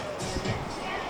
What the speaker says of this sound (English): It's quite crowded actually.